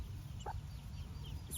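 A Buff Orpington cross hen gives a single short cluck, faint against a quiet low background hum, with a brief soft sound near the end.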